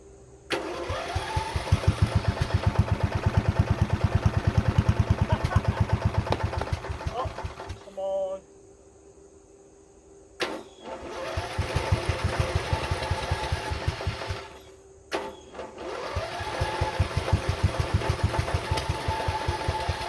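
An old mud mower engine, just fitted with a repaired carburetor, cranks, catches and runs with a loud, steady mid-pitched rumble, cuts out briefly twice and restarts, running close up throughout.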